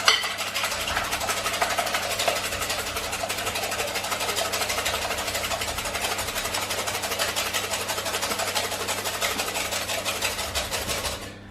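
Electric whisk beating meringue for a vanilla soufflé, a steady loud mechanical whir with rapid rhythmic rattle running continuously for over ten seconds before cutting off, no talking.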